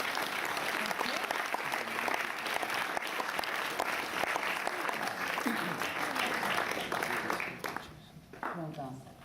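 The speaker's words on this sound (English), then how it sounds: "We'll give her a round of applause." Audience applause at a celebration evening, a steady dense roar of clapping with voices cheering and talking over it, easing off near the end as a single voice comes through.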